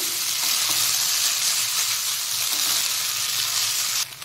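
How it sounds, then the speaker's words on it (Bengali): Boiled Top Ramen noodles stir-fry in a hot pan with a loud, dense, continuous sizzle that cuts off abruptly near the end. "এতে আমি সেদ্ধ করা নুডলসটা দিয়ে দেব। দিয়ে খুব ভালোভাবে এটাকে নাড়িয়ে নিতে হবে"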